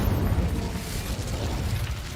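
An Incendio fire spell bursts in the game Hogwarts Legacy, a dense roaring whoosh of flame with low rumbling weight that holds steady for a couple of seconds, close and full.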